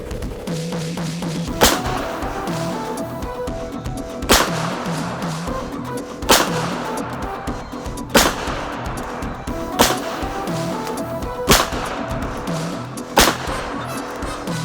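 A Rock Island Arms 1911 A1-FS Tactical pistol fires seven sharp, loud shots spaced roughly two seconds apart, each a crisp crack with a short decay over a quiet outdoor background.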